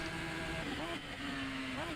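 A modded open-cockpit car, a small oversized go-kart style racer in the sim racing game Assetto Corsa, its engine droning at high revs with a rising and dipping pitch as it shifts through corners, heard faintly and continuously.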